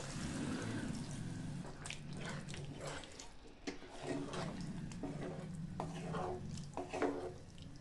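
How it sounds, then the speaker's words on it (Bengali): Water is poured into a pan of soybean do pyaza curry, a continuous splashing, trickling rush with brief drips and stirring clinks, fairly quiet and close. "এখন পরিমাণ মতো জল দিয়ে দেব।"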